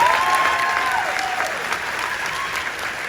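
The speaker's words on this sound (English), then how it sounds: "Give them a round of applause one more time." Audience applause at a company presentation, a dense, steady round of clapping from a large crowd that fades slightly toward the end.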